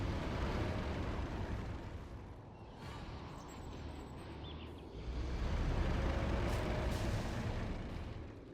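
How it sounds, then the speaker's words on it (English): Carpet bomb explosions rumble in a strategy game, a dense continuous low roar of blasts that swells louder toward the end, with no talk over it. "Carpet Bomb comes in and wipes out pretty much everything there"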